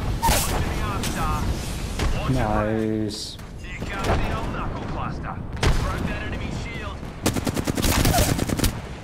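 Apex Legends gunfire in a firefight, loud bursts of automatic shots and booming impacts in clustered volleys, with a rapid rattling stream near the end over game sounds.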